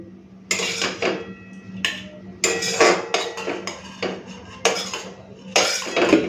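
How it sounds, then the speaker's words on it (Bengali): Kalmi greens being lifted out of a wok in a home kitchen, with a run of clinks and scrapes of metal utensils against cookware. They come in several short bursts over a low steady hum, with no talking. "কড়াই থেকে শাকটা তুলে নিই শাক ভাজাটা তুলে নিই"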